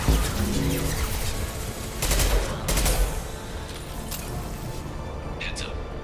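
Concussive shot and gunfire in Mass Effect 2, a booming blast followed by sharp bursts of rapid shots over a constant loud din of combat, with game voices talking over the action.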